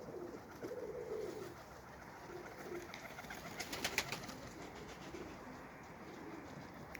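Pigeons coo faintly and at a distance outdoors on a windy day, soft low calls over a breezy background with a brief flurry of fluttering or clatter midway.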